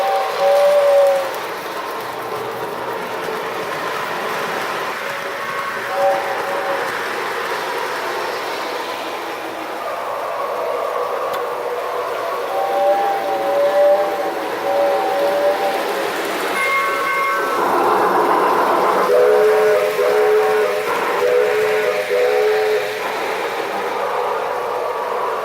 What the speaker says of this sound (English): To make it realistic, I blow the whistle twice to give it the appeal that it's giving.